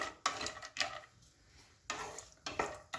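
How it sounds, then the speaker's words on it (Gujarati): Cashew pieces sautéing in a pan over a low flame: a faint, steady sizzle broken by several quick scraping stirs and clinks of a spoon against the pan, with no talking. "હવે ધીમો તાપ રાખી અને આપણે જે કાજુના કટકા છે એ આપણે પહેલાં સાંતળી દઈશું"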